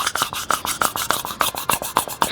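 A torn, ripped-apart CV axle boot on a Subaru STI gives off a rhythmic rasping, rubbing noise, repeating in steady close-up cycles about every quarter second, with no talk over it.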